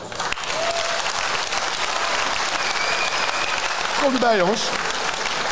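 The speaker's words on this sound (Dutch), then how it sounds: "Mag ik om te beginnen een heel groot applaus voor Basisschool Arcade." Audience applause fills a benefit evening for the Zutphen Helpt Hatay fundraiser as a primary school group is welcomed on stage: steady, dense clapping from a large crowd throughout, swelling slightly near the end, with a voice speaking over it.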